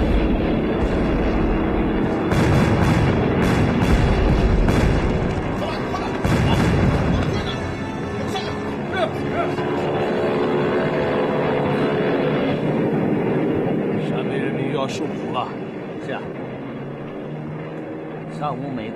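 Aerial bombing in a Chinese civil war drama set on the northwest front near Yan'an: deep booming explosions and rumbling aircraft roll on for the whole stretch, loud at first and easing later, with speech over them.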